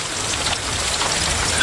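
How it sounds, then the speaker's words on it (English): Steady rain falls in a dense, even hiss of raindrops striking surfaces, with no breaks and no voices. "Rain is very beautiful today."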